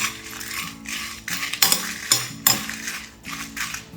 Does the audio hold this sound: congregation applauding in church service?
no